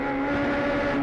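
At Sepang, a race car drops through the gearbox into second for the last turn and goes back on the power. A steady, tonal engine drone comes from a distance with no break.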